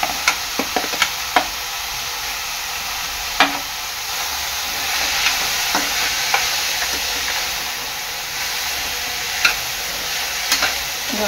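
Carrots stir-fried in a pan for vegetable spring rolls, a steady sizzle with scattered sharp clicks of a spatula scraping and tossing, close and without talk.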